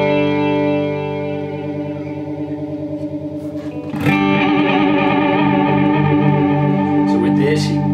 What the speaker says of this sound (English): with this you can get a emulator, kind of tape warble.